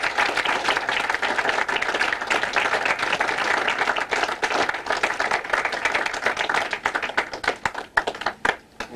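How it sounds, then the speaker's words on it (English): Audience at a school-hosted Pacific War event applauds veterans, a crowded patter of many hands clapping steadily before thinning into scattered, separate claps near the end. "So let's give them a round of applause"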